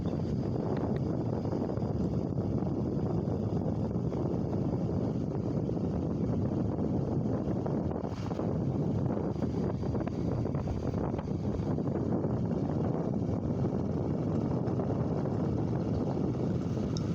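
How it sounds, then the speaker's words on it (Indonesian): A motorcycle rolls slowly at about 30 km/h through a village, a steady low engine drone masked by constant wind buffeting across the microphone, with no talking. "Di sini saya mengendarai motor dengan kecepatan maksimal 30 km per jam"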